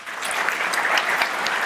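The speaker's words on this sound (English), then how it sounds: "let's give one more round of applause" A conference audience applauds in a steady, dense burst of clapping that holds evenly from start to finish, with no voices rising above it.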